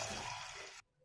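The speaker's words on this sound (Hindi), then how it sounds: "पानी ऐड करेंगे" Water pours steadily into a pressure cooker holding washed whole red lentils for dhaba-style masoor dal, a close, broad splashing rush that stops abruptly near the end.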